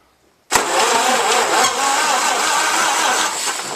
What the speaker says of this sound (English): I'm going to test the clutch and drivetrain just using the starter.